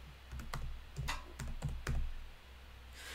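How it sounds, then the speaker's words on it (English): Keys clatter on a computer keyboard as someone types a word into cutting software, about half a dozen distinct close keystrokes in an uneven rhythm, then a pause. "So I'm just typing normally."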